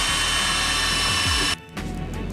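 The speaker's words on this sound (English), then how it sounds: "I'm just gonna start drilling into it and hope that I can mount a bottom bracket in here." A power drill bores into a homemade wooden bike frame to fit a bottom bracket, a loud steady whine for about one and a half seconds before it cuts off and winds down.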